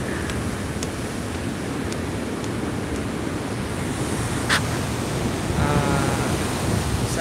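Large storm waves surge and crash during a typhoon on the Bicol coast, a continuous loud roar of surf and wind with no talk over it.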